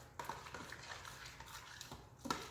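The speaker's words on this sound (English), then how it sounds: "just give it a quick stir" Instant Pot mac and cheese gets a quick stir with a spoon, giving soft, faint wet scraping and a few light taps against the pot.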